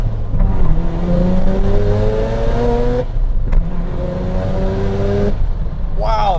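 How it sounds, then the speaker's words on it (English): A Mazda FD RX-7 imported from Japan accelerating hard and loud from inside, its engine note climbing steadily through gears with abrupt breaks at each shift, where the differential clunks and whines. "Wow, that diff is loud during the shifts."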